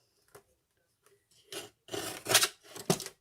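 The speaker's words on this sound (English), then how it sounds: "Just take your trimmer and trim" Paper trimmer blade slicing through card stock for a handmade Christmas card, giving several short rasping cuts that grow louder, close by with no talking.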